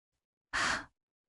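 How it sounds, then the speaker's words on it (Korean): A single short, harsh breath, one sharp gasp-like exhale about a third of a second long, close and clear against total silence. "거친 숨소리"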